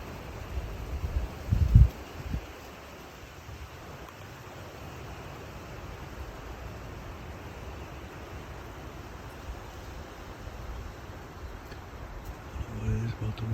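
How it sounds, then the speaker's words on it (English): Wind blows steadily across an open hunting trail during late muzzleloader season, a broad continuous rush with a louder buffeting gust early on. "What it is about the wind this year."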